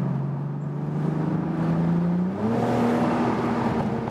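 A 2019 BMW Z4 M40i G29 rear-wheel-drive roadster cruising at 70 km/h, a smooth low engine drone that steps up in pitch as it pulls harder, heard from inside the car with no talking.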